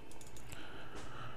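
Short burst of computer keyboard typing while a folder name is entered, rapid soft key clicks close up with no talking.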